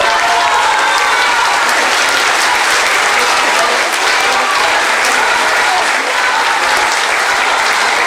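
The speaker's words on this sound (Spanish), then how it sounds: "Fuerte el aplauso, por favor." A crowd at a book presentation in Mexico claps loudly and continuously, a thick, even wash of applause lasting several seconds without pause.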